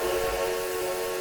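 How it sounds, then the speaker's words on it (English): A steady steam whistle from a narrow gauge locomotive in a train simulator game, a continuous tonal blast held evenly for about a second with a faint hiss underneath. "The whistle,"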